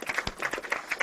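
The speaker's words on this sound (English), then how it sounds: "Let's give them a round of applause." A small audience at a tech-trends event claps for a sponsor, giving brief, fairly quiet scattered clapping with a loose uneven rhythm.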